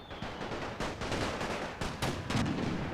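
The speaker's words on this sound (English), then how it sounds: "The Germans advance right into the gunfire and right into the bombs." Rapid, dense video game gunfire crackles continuously, with sharper cracks and booms punching through a constant roar of World War I battle.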